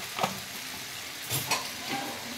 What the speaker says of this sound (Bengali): এবার আমি একটু ভালো করে কষিয়ে নেব।